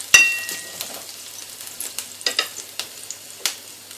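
Garlic and ginger frying in a pan, a quick sharp crackle at the start and then softer sizzling with intermittent stirring clicks and scrapes, close and clear with no talking.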